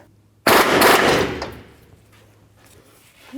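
Half-inch air impact gun on the nut of a lower control arm bolt on a 1997-04 Dodge Dakota, one loud hammering burst of about a second that fades into quieter rattling.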